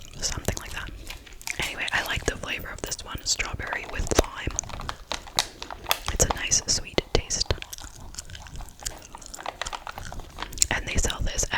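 Close-up chewing of dollar-store gum with a crunchy candy shell, with wet smacks and sharp crunches repeating steadily under soft whispering.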